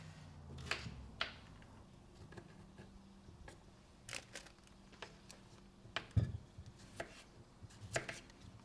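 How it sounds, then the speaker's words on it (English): Knife chopping potato into small chunks on a board, a series of crisp irregular close taps with short pauses between cuts, with no talk over them. "just chop up the potato into relatively small chunks"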